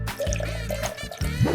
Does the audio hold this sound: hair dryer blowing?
no